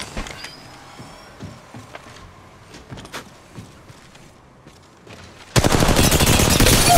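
Video game gunfire: scattered single shots and clatter give way to a loud, sustained burst of rapid automatic fire at the end.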